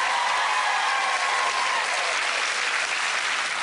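A television studio audience applauds guests Gary and India, a loud, even wash of clapping that holds steady throughout with no voices over it.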